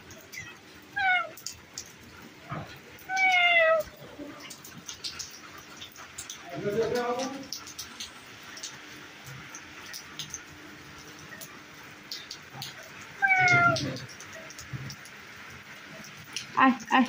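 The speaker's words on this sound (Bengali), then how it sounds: "মিয়াও" A cat gives a few separate meows, some rising and some falling, spread out with quiet gaps between them and soft background noise.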